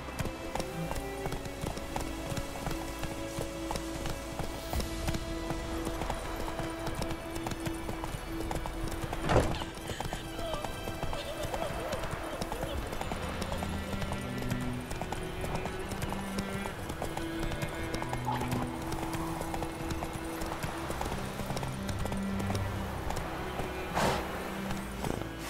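Horse hooves clip-clop in a steady galloping rhythm through the Witcher 3: The Wild Hunt game world, close and continuous over ambient game sound, with a brief whinny and faint snorts along the way.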